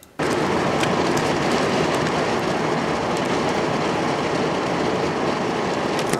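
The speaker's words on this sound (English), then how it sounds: "There's a train going by." A train rushes past close by, a loud continuous roar of wheels and rattling cars that starts abruptly and holds steady.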